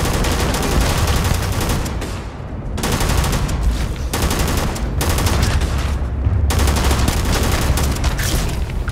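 Automatic gunfire in the space game Starfield, long loud bursts of rapid shots close up, separated by brief pauses, with no speech over them.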